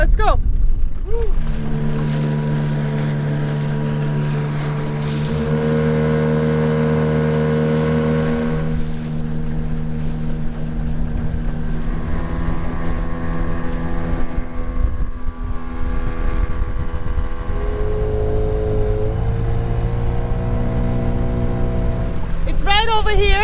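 A small outboard motor on a dinghy drones steadily for a long stretch, its pitch shifting as it revs, with wind buffeting the microphone and occasional voices.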